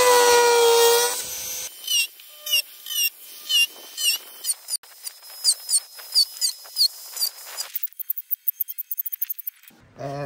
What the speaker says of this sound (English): Stage one is the Dremel.